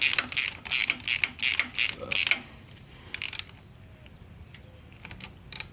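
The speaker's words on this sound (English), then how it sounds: "These ratchet wrenches sure help in areas like this." A ratchet wrench tightens bolts on a 1966 Ford Bronco, producing a run of quick, close clicking strokes in a steady rhythm, then a pause and a final short burst before falling quiet.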